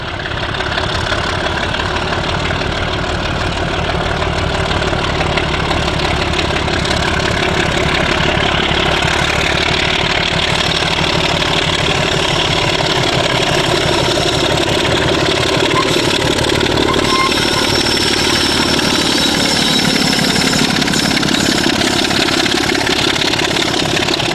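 Class 26 diesel locomotive 26024 working upgrade toward Hayward, a loud, steady throbbing diesel engine drone with knocking texture, continuous for the whole stretch with no voices.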